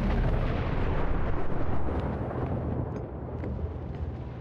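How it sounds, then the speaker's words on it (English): A deep, loud rumble of thunder in the video game Outer Wilds that rolls on for several seconds and slowly fades, with no voices. "Sometimes the thunder sounds like explosions and it scares me."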